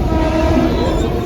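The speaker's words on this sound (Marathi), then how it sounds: "आता ट्रेन आले, चढूया" A train pulling into a Mumbai suburban station makes a loud, steady rumble of wheels and carriages, close by and continuous, with no talk over it.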